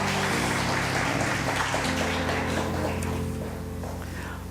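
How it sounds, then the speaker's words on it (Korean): A Korean church congregation gives a warm round of applause to welcome a new pastor during a Sunday service. The clapping is full and continuous at first, then thins and fades away under a low background hum. "네, 큰 박수로 환영해 주시기 바랍니다."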